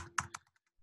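A computer mouse gives a few quick, faint clicks close by, two sharper taps followed by softer ticks, in an otherwise quiet room.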